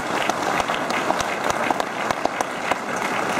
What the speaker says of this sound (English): That's a good applause.